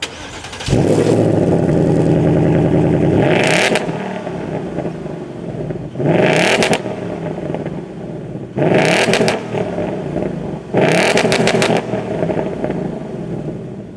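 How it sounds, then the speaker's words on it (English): A 2024 Ford Mustang Dark Horse V8 with active performance exhaust starts with a loud crackle, then idles with a deep burble and gets four sharp revs, each rising and falling, heard up close and alone. "That is one aggressive V8 for sure."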